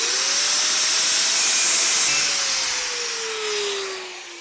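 An angle grinder cuts out a shock insert from an Inmotion RS Lite, a loud, steady high whine with a faint tonal pitch that slowly dips as the cut goes on, heard alone at close range.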